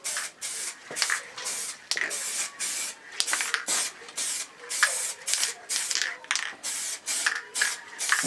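Liquid wrap sprayed in short repeated bursts onto the edges of a Triumph Tiger motorcycle in a garage, each hissing spray pulse separated by brief pauses in an uneven rhythm, close and fairly loud.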